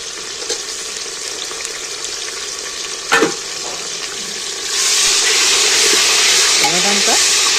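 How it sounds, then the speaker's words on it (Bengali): Chopped tomatoes tipped into a pan of fried onions, a loud sizzle swelling as they hit the hot pan and stirring continuing, with a sharp clatter midway. "এইবার আমি ছোটো ছোটো করে কেটে রাখা টমেটোগুলো তুলে দিচ্ছি এর মধ্যে"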